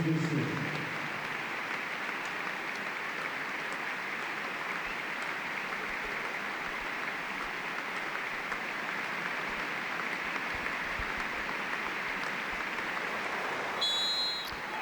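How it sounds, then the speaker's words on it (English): A football stadium crowd at an Everton home match sustains steady applause for a minute's tribute, a dense even clapping wash heard from a distance, with a brief louder burst near the end. "A minute's applause there in honour of former Everton player Jimmy Husband"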